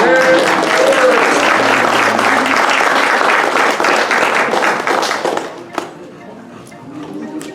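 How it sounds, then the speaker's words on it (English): A circus audience gives loud, dense applause, many hands clapping together at full strength before it thins and fades toward the end, with a voice briefly audible among the clapping. "Let's give him a round of applause."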